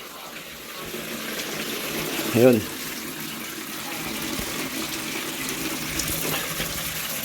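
Recycled water runs steadily into a gold tailings pan, a continuous splashing flow throughout, while a person speaks briefly over it.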